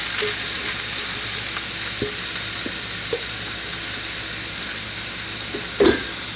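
Mushrooms frying in a very hot pan for chicken crepes, a loud, continuous hissing sizzle with occasional soft taps and one sharp clatter of a utensil near the end, close and without voices.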